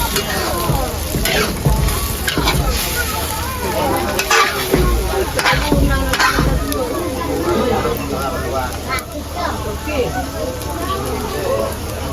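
Food stirred and frying in a pan like a scramble, cooked outdoors at a remote sitio, with a steady sizzle and repeated scraping strokes throughout, a murmur of voices in the background.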